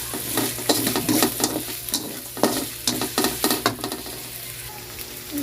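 Something stirs in a sizzling pan, with a steady frying hiss and a run of close scraping clicks, as coconut milk goes into the pan.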